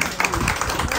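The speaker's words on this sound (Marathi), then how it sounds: "टाळ्या" Brief burst of applause from a group at a school reunion get-together, close and fairly loud, the claps overlapping into a dense patter.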